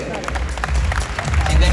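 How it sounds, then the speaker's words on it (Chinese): Audience clapping fills a hall at the launch event for the third-generation Ford Kuga, welcoming the company president to the stage. The applause is steady and fairly loud, with voices mixed underneath. "掌声欢迎总裁"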